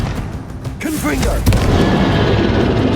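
A Confringo spell explodes in the Hogwarts Legacy video game, a sudden deep boom about midway that rolls into a rumbling tail, with a voice speaking just before it amid combat noise.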